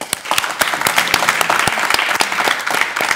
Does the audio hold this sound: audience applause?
yes